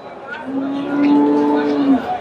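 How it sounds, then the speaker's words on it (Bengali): A large pregnant Frisian dairy cow at a busy rural cattle market lets out one long, loud, close moo lasting nearly two seconds. "এই যে গাভীটা"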